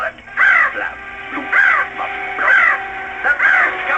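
A crow caws in four loud, harsh bursts spaced about a second apart, close by, with steady background hum between calls.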